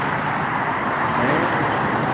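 Steady, dense roar of freeway traffic rushing past, a continuous broadband wash of tire and engine noise with no pauses.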